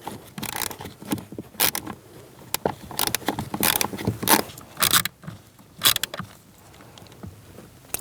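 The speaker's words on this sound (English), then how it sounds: "Go around and snug down all of the fasteners." Blower motor fasteners on a Dodge Durango being snugged down with a hand tool: irregular clicks, scrapes and rattles of metal close by, no talking.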